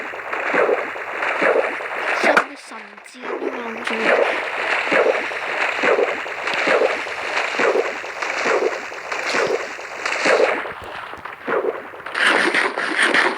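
Boat gliding over water in Minecraft during a Hunger Games match, with steady rhythmic paddle splashes repeating about every half second, near and fairly loud, while a voice speaks briefly over it.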